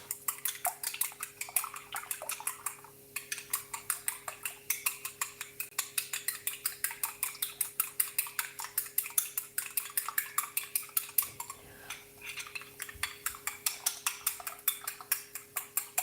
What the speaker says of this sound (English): And then I'm going to whisk the egg.